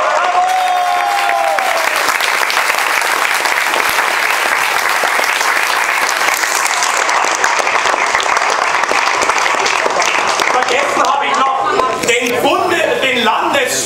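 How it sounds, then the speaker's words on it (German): Loud, sustained applause from the crowd at an election-night party, a dense wall of clapping with voices and some cheering mixed in, thinning toward the end as people talk. "dem wollen wir einen großen Applaus mitgeben"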